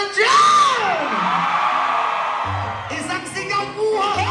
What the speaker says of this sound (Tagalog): Isang hiyawan naman dyan!